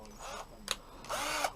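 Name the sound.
power drill trying to drill through motorcycle part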